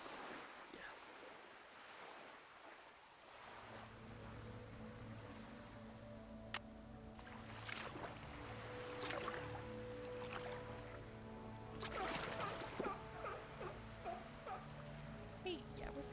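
Kayak paddling on water in the Nancy Drew game Danger on Deception Island, gentle watery strokes and lapping under a soft ambient score, with a person talking over it.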